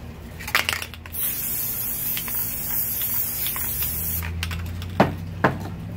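White spray paint hisses steadily from an aerosol can for about three seconds, close and continuous, framed by a few clicks and taps before and after.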